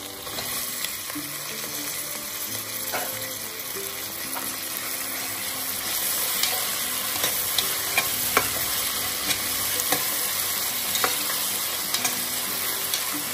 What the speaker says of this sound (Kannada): ಈಗ ಟೊಮೆಟೊ ಹಾಕೊಳ್ಳಿ.